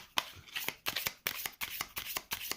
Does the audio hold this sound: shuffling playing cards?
yes